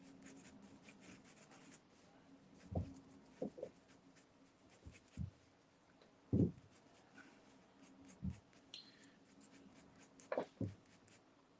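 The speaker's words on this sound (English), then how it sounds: "So I'm going to try my hand at this Tarzan type of character here" A pencil or pen sketches a Tarzan-type character on paper, with irregular scratchy strokes and soft taps at close range in a quiet room, no talking.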